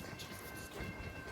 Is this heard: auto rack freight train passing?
yes